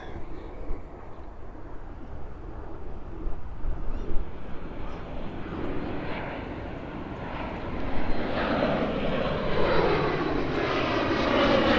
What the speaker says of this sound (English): So that's the Embraer 175 taking off to San Antonio in Texas